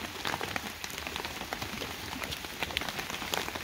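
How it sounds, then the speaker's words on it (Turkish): Heavy rain falls during a kayak trip in a Decathlon Itiwit canoe, a dense, constant patter of drops hitting surfaces nearby without pause. "Yağmur fena bastırdı."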